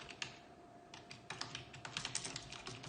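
Rapid typing on a computer keyboard while entering page text in a text editor, a steady run of close, crisp key clicks with brief pauses and no voices.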